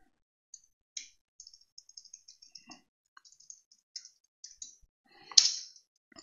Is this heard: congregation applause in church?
no